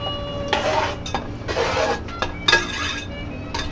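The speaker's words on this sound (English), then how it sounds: "You know what I like is start stirring that around." A spoon stirs cauliflower through custard in a bowl, making intermittent scraping swishes and light clinks against the side, with no voices.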